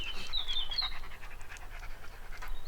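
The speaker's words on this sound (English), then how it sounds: "Now we have dogs here also." Dogs pant close by in quick, steady, breathy rhythm, continuous throughout, with no one speaking.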